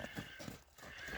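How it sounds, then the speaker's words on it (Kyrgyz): A young English-breed foal, heard faintly and briefly outdoors: a few soft hoof thuds in quick rhythm, blending with a short whinny-like sound. "Мыкты кулун экен бул да."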